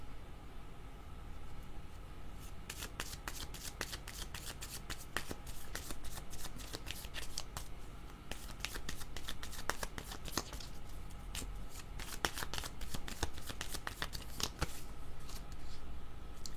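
Tarot cards shuffled by hand for a reading, a long run of rapid riffling flutters in bursts over a soft steady background hiss, close and quiet with no voice.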